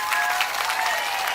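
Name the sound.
crowd applause at political rally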